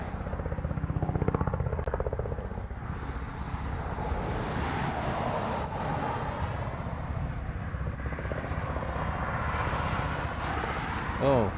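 An airplane comes in to land at Honolulu airport at night, a loud, rumbling jet roar that swells and drifts in pitch, with wind buffeting the microphone and a person talking now and then.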